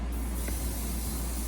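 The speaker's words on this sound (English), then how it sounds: "And you're gonna go ahead and grease your pan." Cooking oil spray greasing a pan before hash browns are made for a breakfast sandwich; a steady, close hiss that continues unbroken for its whole length.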